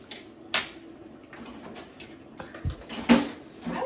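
Dishes, pots and cutlery clatter at a sink during washing up, with scattered sharp clinks and knocks at irregular moments over a quiet background.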